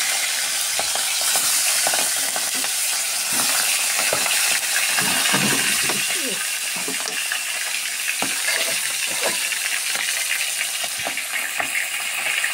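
Fish heads frying in white cooking oil in a wok, giving a continuous loud hiss and sizzle with occasional stirring clatter, close and steady without talk.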